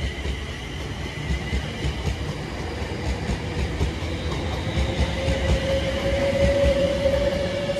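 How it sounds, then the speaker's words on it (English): A British Rail Class 350 electric passenger train rumbles steadily nearby with rolling wheel noise at Milton Keynes Central station, and a rising electric whine grows louder toward the end as it departs. "there's 350404 on the 1627 London Northwestern Railway service to London Euston"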